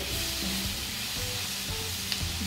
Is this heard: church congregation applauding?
no